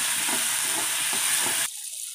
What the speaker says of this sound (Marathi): म्हणजे टॅमॅटो लवकर फ्राय होईल।